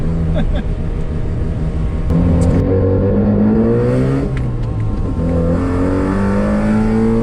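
A 1979 Mazda 323 rotary car drives along with a steady engine drone that rises and falls through gear changes, a fuel pump whirring in the mix, loud and continuous throughout.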